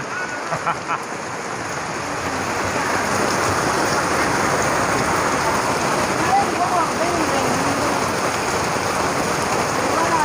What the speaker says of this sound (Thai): ก็ฝนยังตกลงมา